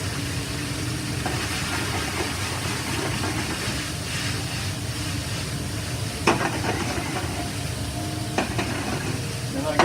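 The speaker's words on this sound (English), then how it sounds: "And in goes the japchae. Basically Korean stir-fried noodles." Korean japchae stir-fried noodles, already cooked, reheating in a hot pan beside beef bulgogi, give a steady close sizzle with stirring and scraping and a couple of sharper clatters near the end; no one speaks.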